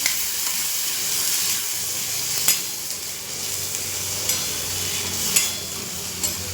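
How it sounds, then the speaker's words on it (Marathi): Field beans (val) being stirred with fried spices in a pan, a steady soft scraping and sizzle with occasional sharp clinks of the spoon against the metal, no talk. "वाल हे मी ह्याच्यात टाकून घेते सर्व मिक्स करायचं"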